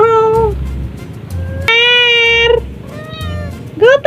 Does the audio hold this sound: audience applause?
no